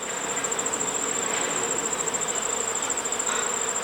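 Honey bees fanning at a hive entrance make a steady, close, high-pitched buzzing hum that continues without break, with no talk.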